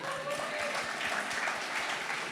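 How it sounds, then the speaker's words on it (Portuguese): Audience at a youth retreat clapping for people from Pelotas, dense steady applause close by, with a few voices mixed in. "Uma salva de palmas quem é de Pelotas aí"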